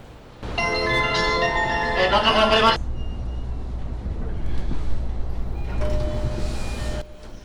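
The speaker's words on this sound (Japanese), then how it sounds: "毎週お金があるときは電車を使う西尾さん。" A train moves through a station in Japan with a rumbling low drone, a tonal chime or bell sequence early on and a later squeal of wheels or brakes; no speech is heard.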